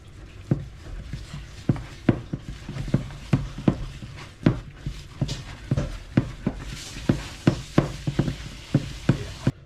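Masala spices for garlic chicken kebab splutter and sizzle in a pan, with sharp irregular pops and crackles over a low frying hiss, loud and close, with no talking.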